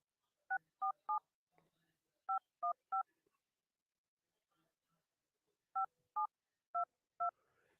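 Eleven DTMF touch-tone beeps as a phone number is dialed before a call, in three quick clusters of three to four tones separated by short pauses, clear and close with no talking.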